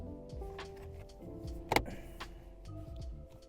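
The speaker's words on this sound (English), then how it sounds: "push this in like this, and then it should" A phone mount clip is pushed onto an air vent in a 10th-generation Honda Civic, giving one sharp, close plastic snap amid quieter handling rustles.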